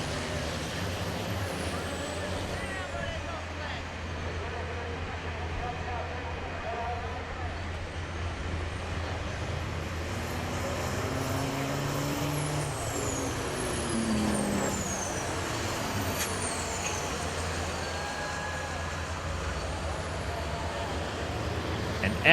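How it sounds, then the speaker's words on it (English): Diesel trucks race at Florence Motor Speedway, their engines a steady, loud roar with rising and falling passes and occasional hisses, continuing without a break. "We're going to let you listen to some good diesel racing."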